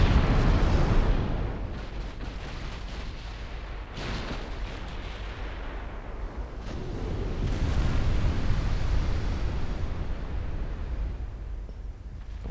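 Heavy battleship main guns boom in a 1928 Norwegian campaign naval war game: deep rolling blasts and long low rumbles, with a sharp burst near the start and another around four seconds, sounding loud and continuous.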